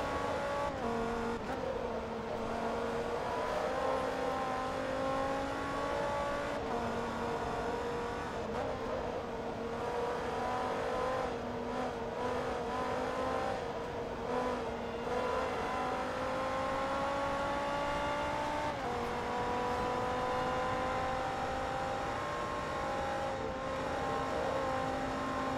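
Race car engine in Forza Motorsport 2 droning continuously at close range, pitch rising through each gear and dropping at shifts, loud and steady throughout the long stretch of driving.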